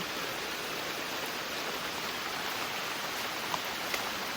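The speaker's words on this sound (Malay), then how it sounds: "Hujan." Steady rain pours down in a constant, even hiss of dense drops, with a couple of faint closer drips standing out near the end.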